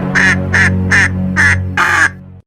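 A cartoon duck gives five quick nasal quacks in an even rhythm, the last a little longer. A low steady drone sits underneath the whole time, and no one speaks.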